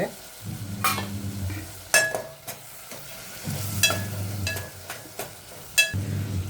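Bitter gourd fries with curd in a pan, with a low sizzle, repeated spoon clinks and scrapes against the pan, and a low background hum.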